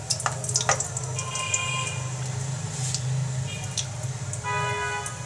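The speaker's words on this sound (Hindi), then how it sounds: "सबसे पहले ये घी में डाल देंगे, घी को पहले ही गर्म कर लिया है, इसको हल्का सा फ्राई करेंगे।" Cloves, cardamom and a cinnamon stick fry gently in hot ghee with a soft, moderate sizzle and light crackles, accompanied by a low background hum and faint tonal beeps.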